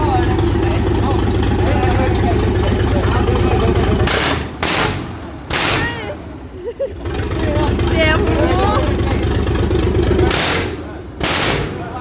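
A car engine running without its turbo idles with a steady low rumble, overlapped by loud bursts of noise and people talking nearby.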